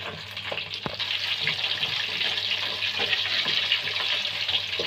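Curry puffs deep frying in hot oil on a low flame, a steady close bubbling sizzle with a few soft clinks, no talking.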